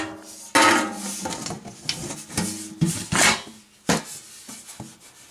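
A metal grate slid lengthwise into a camp cook kit gives a few sharp metallic clanks and scrapes, close and irregular, separated by short quieter pauses with no talking.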